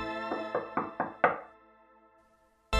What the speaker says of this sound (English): Who could be behind the guest room door? Just give it a knock to find out for